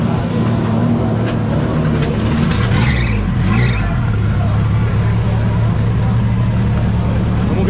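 A turbocharged Chevrolet Omega drift car runs at a go-kart racetrack, a loud, steady engine drone with its pitch wavering briefly in the middle. Background voices and ambient track noise sit beneath it.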